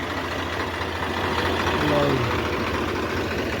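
A tractor engine runs steadily with a rotavator working a field for maize sowing at night, a constant low rumbling drone throughout, with a person talking over it.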